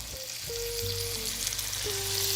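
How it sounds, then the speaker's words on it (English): About a tablespoon of Worcestershire sauce hits a hot pan for BBQ green beans and sizzles in a steady, loud hiss that holds for the whole stretch without a break, close by and with no one talking. "Pan was already still a little bit on the hot side, right? So now I'm going to add my W sauce."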